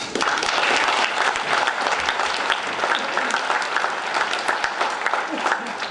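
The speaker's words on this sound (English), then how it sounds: "Can we give her another round of applause?" Dinner audience at a Lincoln Day event clapping steadily and densely, loud and close, a continuous wash of many hands with a faint voice or two mixed in.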